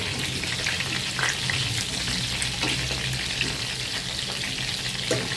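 Meat fries in a pan with butter, ginger, garlic and onion, giving a steady close crackling sizzle with occasional light stirring scrapes and no voices.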